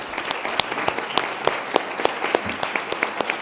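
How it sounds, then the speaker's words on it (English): An audience claps warmly after a panel discussion on artists and books, a dense, steady burst of many hands close and loud, with individual sharp claps standing out. "A big round of applause for our speakers."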